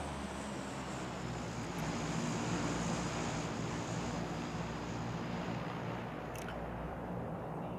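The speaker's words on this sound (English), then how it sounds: "Plane's not as loud on this map." A transport plane drones through the sky in PUBG, a steady, continuous engine hum at low volume that holds without a break throughout.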